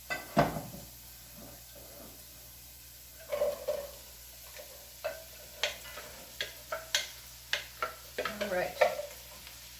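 Zucchini sautéing in a pan, soft sizzling under a string of clicking, scraping stirs that come faster toward the end, close, with a brief spoken word near the start.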